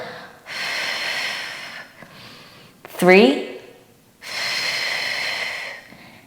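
Heavy, forceful breaths during a Pilates deep-core exercise with a small ball come in long rushing exhales separated by pauses, close and loud, with an instructor's voice counting briefly between them.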